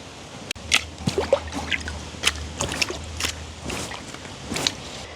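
Trevally pieces are washed by hand in water outdoors in a village: a sharp tap, then irregular wet squelches, drips and small splashes come close and moderately loud over a low steady hum.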